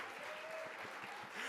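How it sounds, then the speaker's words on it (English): Faint audience applause during a speech at the HRC New York dinner, a steady, even patter of many hands that fills the short moment. "you can applaud if you want"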